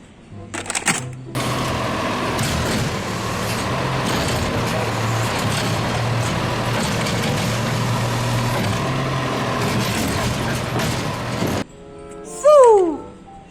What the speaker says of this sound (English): A white and green urban dumpster truck.